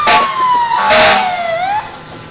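A fire truck siren from the McCain Hose Company passes in the 2021 Edinboro homecoming parade: one loud, close wail that slides slowly down in pitch, then sweeps back up before it cuts off.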